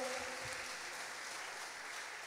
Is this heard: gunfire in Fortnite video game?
no